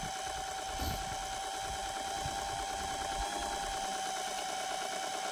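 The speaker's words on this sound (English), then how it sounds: "Here he goes. What a beautiful little lathe." Rare small watchmaker's lathe running, a steady close mechanical whir with a fine rapid chatter and a constant level throughout, no talking.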